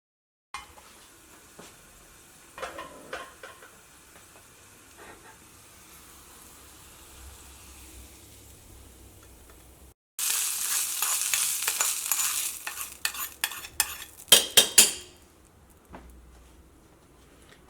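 Sliced onions fry in a pan until golden for biryani, a soft, steady sizzle at first, then louder, scratchier bursts of frying and stirring in the second half before fading.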